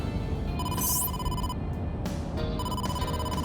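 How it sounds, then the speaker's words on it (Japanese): A telephone rings with a call from the boss in AI: The Somnium Files, an electronic ringing tone repeating in two bursts over a low steady background hum. "ボスから電話だ。"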